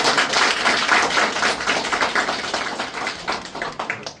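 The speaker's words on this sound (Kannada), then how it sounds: "ನಾವೆಲ್ಲ ಸೇರಿ ಜೋರಾದ ಚಪ್ಪಾಳೆ" Audience applause at a theatre college workshop and World Theatre Day celebration, a dense, steady crowd clapping that gradually thins and fades out near the end.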